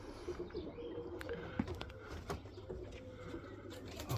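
Racing pigeons coo softly inside a loft, low murmuring calls with a few brief chirps and flutters over steady faint background noise.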